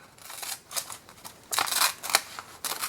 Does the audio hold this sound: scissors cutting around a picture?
yes